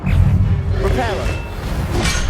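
Reparo repair spell cast in the video game Hogwarts Legacy, a brief shimmering magical swirl with rising tones over a dense, rumbling game background.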